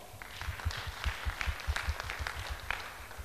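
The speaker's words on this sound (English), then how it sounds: "Give him a good round of applause." A small audience at a leadership talk gives a short round of applause, a moderate patter of many hands with some heavier, rhythmic claps close by.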